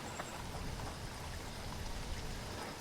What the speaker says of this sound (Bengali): যা জোরে বৃষ্টি পড়ছে